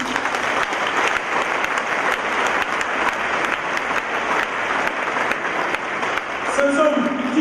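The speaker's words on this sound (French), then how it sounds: "que je vous demande d'applaudir" An audience at a Christian event breaks into sustained, dense applause, with many people clapping steadily together at moderate loudness and a voice rising faintly near the end.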